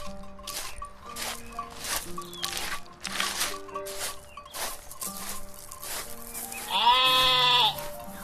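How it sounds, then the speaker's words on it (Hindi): A flock of sheep bleats repeatedly as a shepherd leads them toward a forest, with several overlapping calls in close succession and one loud, drawn-out high bleat near the end. "भास्कर भेड़ों को लेकर जंगल की ओर चल दिया।"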